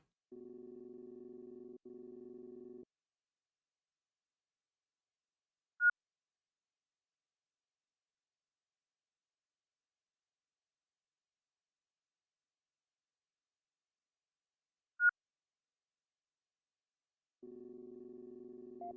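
A proximity alarm in the space game Ostranauts sounds a low, steady electronic tone in two short bursts at the start and again at the end, with a single faint blip twice in between and long silence otherwise.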